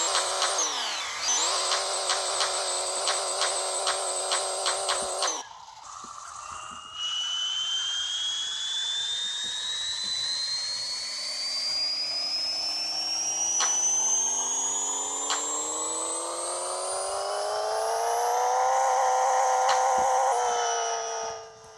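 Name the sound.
car engine revving on a dyno in video game Pixel Car Racer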